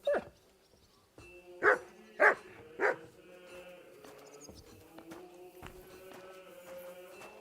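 A dog in Kingdom Come: Deliverance II barks sharply, one bark at the start and then three evenly spaced barks close by, amid quiet footsteps and soft ambient noise.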